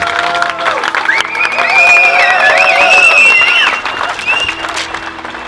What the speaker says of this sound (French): nous pouvons tous applaudir les jeunes mariés